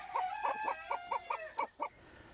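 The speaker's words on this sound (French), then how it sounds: "Jean-Pierre Labarre prélève les premières plumes de ses 150 coqs limousins." Limousin roosters on a farm raised for fly-tying feathers, crowing and clucking in a steady run of about eight short, loud calls close by, with no talk.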